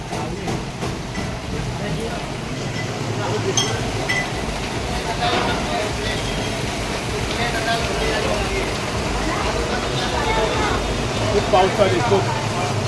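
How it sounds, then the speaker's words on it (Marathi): Heavy rain pours steadily as a dense, even hiss that fills the whole clip. It sounds loud and close, with faint voices in the background. "एवढा चोरात पाऊस चालू आहे"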